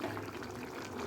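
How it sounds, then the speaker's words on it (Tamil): Cut potatoes drop into a pot of chicken kurma gravy boiling on the stove, giving a brief soft watery splash and bubbling, faint and short. "இந்த டைமில் வந்து நம்ம கட் பண்ணி வச்சுருக்க பொட்டேட்டோவை அதில் ஆட் பண்ணிடலாம்"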